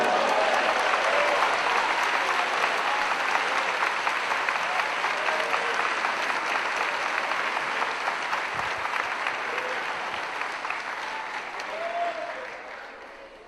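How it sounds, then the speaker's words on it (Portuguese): A church congregation applauds during a sermon, a full, steady roar of clapping sustained for over ten seconds before tapering off at the end. "Vocês podem aplaudir o Senhor Jesus Cristo?"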